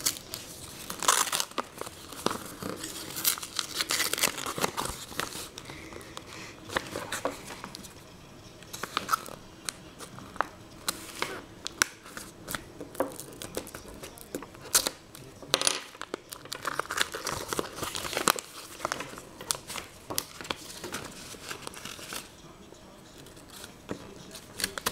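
Sealed red paper being handled and opened up close, a long stretch of dense crinkling, rustling and tearing in uneven bursts, moderately loud and continuous with no clear speech.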